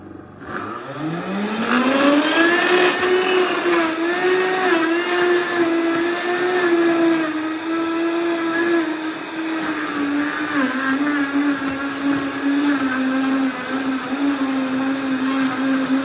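Blender running steadily for the whole stretch, mixing a vanilla-scented hydrating drink; a loud, close whirring motor that ramps up at the start then holds a continuous hum, with no talking.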